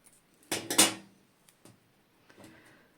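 Scissors cut small pieces of paper for a 3D craft project: a quick cluster of crisp snips and clicks up close, then a few fainter handling sounds in an otherwise quiet room.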